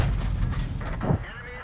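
Tank cannon fire in World of Tanks, a single heavy boom with rumbling decay, preceded by game noise and a brief voice.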